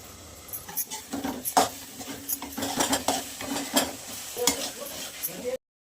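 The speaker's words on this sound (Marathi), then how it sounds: "मस्त आपण वाटाण्याला परतवून घेऊ थोडं 1-5 मिनिटं अजून." Green peas sautéing in a pan for methi-peas bhaji: a soft sizzle under repeated scraping and clinking of a spoon stirring against the pan, uneven strokes close by, ending abruptly.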